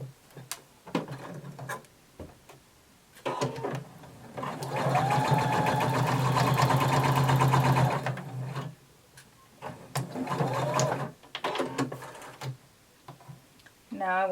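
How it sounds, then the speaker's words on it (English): A home sewing machine runs a steady stitching burst as a 5/8-inch seam is sewn dot to dot on a tapered skirt's lining, bracketed by shorter whirs and fabric handling clicks, with someone talking before and after. "we're going to sew using 5/8 of an inch seam allowance from"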